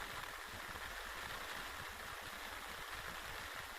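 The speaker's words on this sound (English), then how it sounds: "Alright folks, still raining." Rain drumming on a Fjallraven Akka Endurance 2 tent, a faint, steady hiss with soft low pattering drops spread evenly throughout, no voices.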